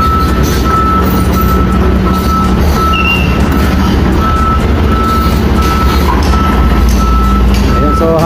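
A boom truck at a crane site on a road-construction project in España, Manila, sounds steady, piercing reversing beeps over loud, constant engine rumble and heavy traffic noise throughout.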